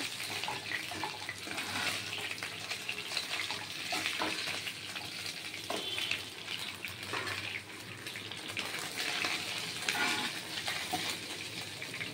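Bhetki fish bones crackle as they fry in oil until reddened, a dense, hissing sizzle that runs steadily throughout with faint stirring knocks.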